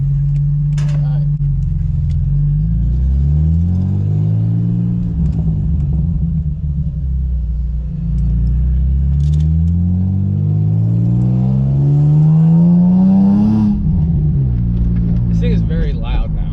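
A loud car engine with a recently repaired exhaust manifold rumbles up close with a deep exhaust note, revving up and down repeatedly, its pitch sweeping higher before settling back to idle.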